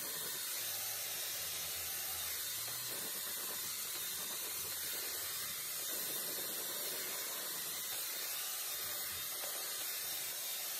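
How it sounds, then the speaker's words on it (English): A Dyson Airwrap on its heat setting blasts hot air onto hair set in rollers and pin curls, giving a steady, loud rushing hiss with no breaks and no talking. "I like to turn on the heat on the air wrap and I like to just blast my hair with the hot air"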